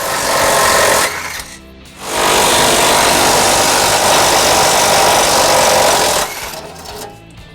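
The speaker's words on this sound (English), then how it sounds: "we're going to use a 17mm socket to remove them" Bolts on a 2006 Acura MDX tow hook spun out with a 17mm socket on a power tool, two loud sustained buzzing runs, one brief and one long, separated by a short pause.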